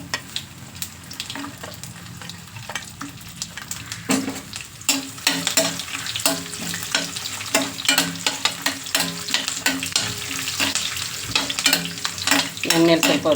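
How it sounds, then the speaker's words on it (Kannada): Grated coconut and peanuts fry in oil in a pan, with a steady sizzle under frequent clattering, scraping stirs that grow busier and louder as it goes on, and no talking. "ಎಣ್ಣೆಲಿ ಸ್ವಲ್ಪ ಹೊತ್ತು ಕಾಯಿ ಫ್ರೈ ಮಾಡಿ"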